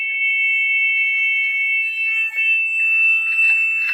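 An elevator alarm sounds after the stop button is pulled, a loud, steady high-pitched electronic tone that rings continuously with only a momentary dip.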